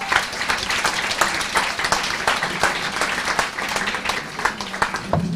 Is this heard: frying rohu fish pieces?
no